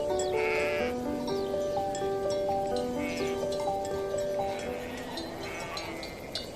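Sheep bleating repeatedly on a village farm, loud tonal cries layered over one another, with horse neighs and hoof clip-clop mixed in throughout.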